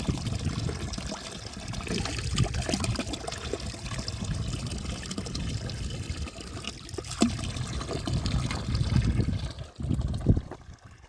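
Ice-cold water pours continuously from a countryside fountain, a close, loud, splashing flow with rushing turbulence that holds steady and then briefly shifts near the end.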